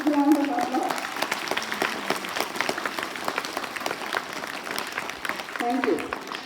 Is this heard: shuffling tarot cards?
no